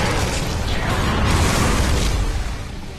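A grenade goes off in Gears of War 3, a loud broadband blast with a rumbling low end that rolls on for about three seconds before easing slightly.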